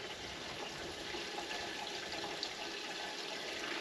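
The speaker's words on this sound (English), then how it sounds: "So let's open the tap." Tap water pouring into a home-made grease trap, a quiet continuous splashing flow, steady throughout with no speech.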